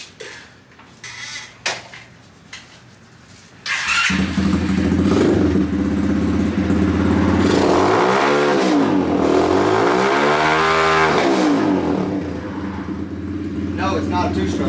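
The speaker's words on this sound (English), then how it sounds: "this is the bike I've been riding. It's a 125cc X Pro" A 125cc X Pro Chinese four-stroke semi-automatic dirt bike engine starts after some handling clatter, then idles and revs up and down in repeated rising and falling sweeps, loud and close, with voices in the background.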